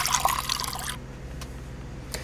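Water runs into a coffee maker in a supply room in the video game Fears to Fathom, a steady bright fill that cuts off after about a second, followed by faint drips.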